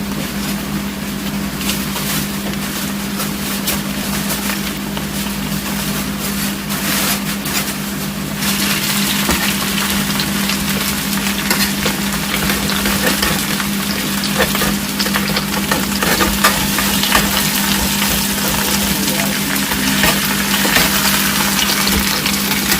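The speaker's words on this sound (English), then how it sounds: "And the potatoes are frying." Potatoes fry in a hot pan, a dense, steady sizzle and crackle that holds close and loud throughout and grows slightly busier partway through, with a low hum beneath and no talking.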